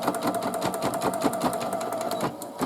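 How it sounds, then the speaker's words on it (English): A sewing machine stitches a placement line on a towel in a fast, even run of close, rhythmic mechanical clatter with no pauses. "I start by stitching the first placement line"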